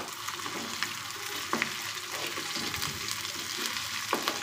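Ginger garlic paste fries in a pan for cooker pappu, a steady loud sizzle with a few scraping stirs of a spoon, no voices.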